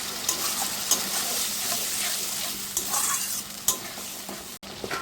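A poppy seed paste sizzles and fries in a pan as water is added and stirred in, giving steady hissing with occasional scraping clicks of a utensil close by.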